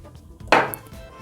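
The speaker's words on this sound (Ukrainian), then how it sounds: "Беру одну картопелину, розрізаю її навпіл." A single sharp knife cut through a potato lands on a board, a brief crisp chop amid quiet kitchen background.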